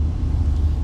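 A steady, low car engine rumble drones close by at a race event, with no other distinct sounds, lasting under a second.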